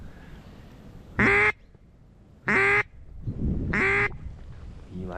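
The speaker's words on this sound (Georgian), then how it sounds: "არ არის ეს ხარაზული იხვი და ის ცოტა სხვანაირად კონტაქტობს" Ducks on a snowy, windy, freezing morning duck hunt give three loud, close quacking bursts, evenly spaced about a second apart, over steady wind noise.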